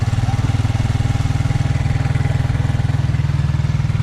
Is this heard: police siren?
no